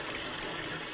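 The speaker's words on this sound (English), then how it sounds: "Running water down 2nd Street is unfortunately nothing new for this part of town." Floodwater runs down 2nd Street in Reedsburg, a continuous broadband rush of flowing water, steady and fairly close with no voices.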